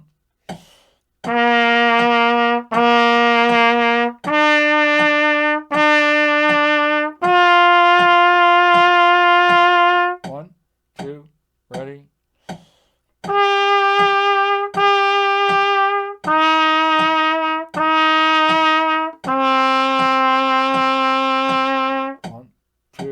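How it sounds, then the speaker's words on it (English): Trumpet playing method-book exercise number 12, a simple melody in long sustained half notes, each note clear and separated by short breaths, loud and close with no talking. "Number 12, simple melody, should sound like this."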